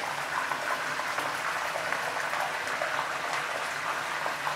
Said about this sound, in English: The splattering.